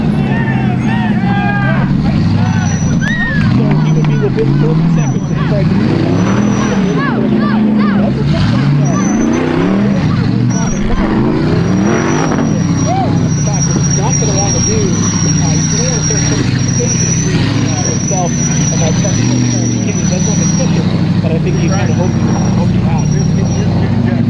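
Off-road race cars grinding through a boulder field at King of the Hammers, engines revving and droning loudly and continuously under an announcer's commentary.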